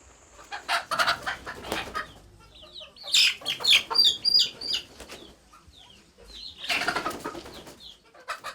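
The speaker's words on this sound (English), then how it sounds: "With the poultry" Chickens clucking and a rooster crowing at a poultry project run by youth and women's groups near Makongo Sand Dam, Kenya, with repeated close clucks, bursts of activity and brief wing flaps, no speech.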